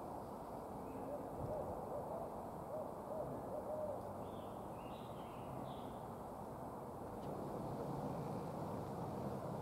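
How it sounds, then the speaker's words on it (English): A barred owl gives a short run of soft, distant hoots early on, set against a dense, steady outdoor background chorus that continues throughout. "I heard the barred owl."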